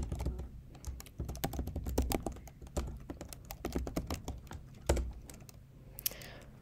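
Computer keyboard typing as a command is entered in a terminal, a close run of crisp, irregular key clicks with brief pauses and one heavier key press near the end, no talking.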